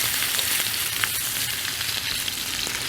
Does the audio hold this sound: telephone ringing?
no